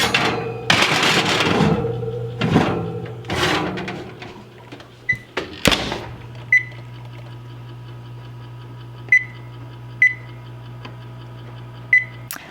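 Clatter and thuds as a sourdough brownie dish is set into a home oven and the door shuts, followed by a steady hum and several short, evenly spaced beeps from the oven controls.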